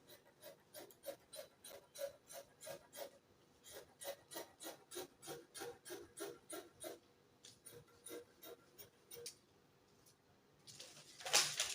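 Scissors cutting through fabric for a draped cowl skirt, a steady run of close, rhythmic snipping strokes with a brief pause, then a louder rustle of cloth being handled at the end.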